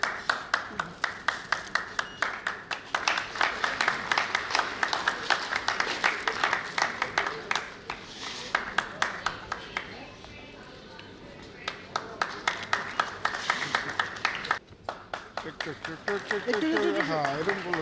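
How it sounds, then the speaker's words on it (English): Audience applause at an Aakash National Talent Hunt Exam scholarship event, dense sustained clapping from a crowd lasting many seconds, with a brief dip midway before swelling again. "Can you have a round of applause?"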